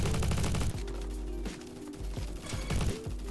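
AUG gunfire in the Roblox shooter Bad Business: loud sustained automatic bursts, then a string of separate sharp shots with short gaps between them, with no voices.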